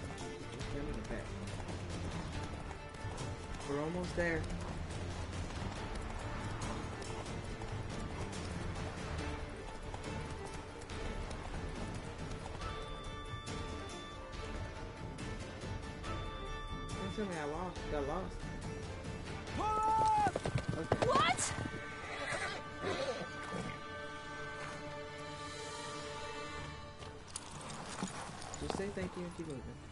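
Horse hooves clip-clop at a gallop through a Witcher 3: Wild Hunt chase, running steadily under a music score while characters talk over it.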